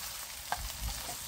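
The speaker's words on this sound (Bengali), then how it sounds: "এখানে দিলাম সাদা জিরা, তেজপাতা ফোড়ন, পেঁয়াজ আর রসুন দিলাম।" Onion and garlic hit hot oil with cumin and bay leaves, giving a brief sizzle with a stirring scrape and a soft clack partway through.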